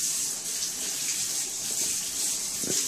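A tap runs steadily into a sink as hands are washed, a constant close hiss of flowing water with no speech.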